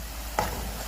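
A curry base fries in a pan with a low steady sizzle and a single brief scrape of stirring, close and short.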